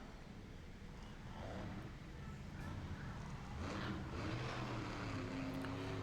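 A monster truck engine revs hard at a Monster Jam arena event, a loud, sustained roar with rising pitch in the later seconds, mixed with crowd and arena noise.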